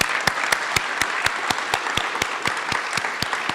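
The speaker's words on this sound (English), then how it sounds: "And I do think we should give a round of applause." A crowd at a flight academy graduation ceremony applauds steadily, a dense wash of clapping with sharper individual claps ringing out at an even rhythm.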